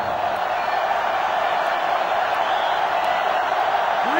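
A sellout stadium crowd at a football game roars in a steady, loud wash of cheering and whooping, sustained throughout without breaks.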